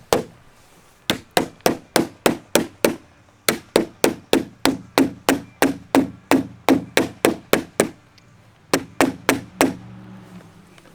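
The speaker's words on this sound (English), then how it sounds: "You want to use a non-marking hammer so you're not scuffing it all up." Non-marking hammer tapping a window mull into place during a window install, a long run of sharp, evenly spaced knocks in quick bursts, close and loud, with brief pauses between groups.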